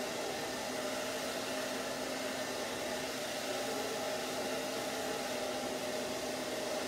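A hair dryer blowing on hair after a short layered haircut for a woman, a steady, loud whooshing hum with a constant motor tone, unbroken throughout and no talk.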